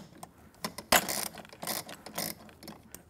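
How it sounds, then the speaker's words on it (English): A ratchet tightens a bolt on a metal post during assembly, giving quick close clicking bursts and a few louder rasping pulls of the pawl, uneven in rhythm and moderately quiet, with no talking. "I'm going to press it all the way up there and tighten the bolt to make sure it stays"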